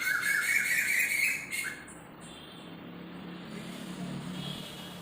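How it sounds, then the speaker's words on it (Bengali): Birds call from trees in the afternoon, with loud, bright squawking for the first second or so. It then fades to a quieter outdoor background with a faint hum of passing traffic. "বিকেলবেলা পাখিগুলোর এত সুন্দর ডাকটা আমার এত ভালো লাগে"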